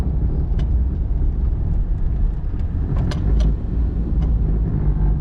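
A car drives along a road close by, its loud engine and tyre rumble holding steady and swelling slightly as it passes, with no voices present.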